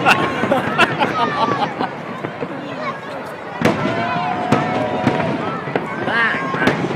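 Fireworks bang and crackle in rapid irregular pops and louder sharp reports, with whistling trails, while a crowd chatters and people talk close by.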